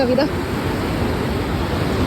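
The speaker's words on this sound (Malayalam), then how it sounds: "മനസ്സിലെ ആകുലതകൾ പോലെ ആഞ്ഞടിക്കുന്ന തിരമാലകൾ." Loud, broad roar of surf washing in continuously, close and dense like waves breaking on a shore.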